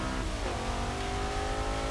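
Racing car engine in Forza Motorsport 6 revving and accelerating, a loud continuous mechanical drone with a pitch shift as it changes speed, no talking.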